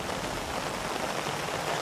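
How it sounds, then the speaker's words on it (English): Steady, soft rain pattering on surfaces, a continuous even hiss of drops, fairly quiet and with no voices. "It's raining, but it's not cold"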